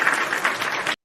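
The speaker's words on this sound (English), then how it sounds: "Round of applause for you guys." A live show audience bursts into a short round of applause, with dense clapping lasting about a second before it stops abruptly.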